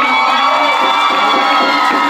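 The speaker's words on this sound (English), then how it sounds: "everybody just give a round of applause to my guy" A live audience at a dance and drum company show cheers and applauds in a loud, continuous wash of claps, shouts and whoops, with children's voices mixed in.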